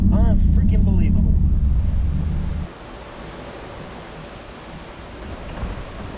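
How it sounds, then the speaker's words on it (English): Heavy rain pours during a thunderstorm, a loud rumble of thunder rolling over the first couple of seconds before easing into a steady hiss of rainfall that continues alone. "Another wave of storms coming."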